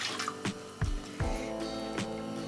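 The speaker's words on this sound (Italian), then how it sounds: "Ci metto un po' di brodo, ho messo acqua calda e mezzo dado" Hot broth made from water and half a stock cube poured into a simmering pan, with liquid splashing and sizzling plus a few sharp knocks and clinks of cookware, close and moderately loud.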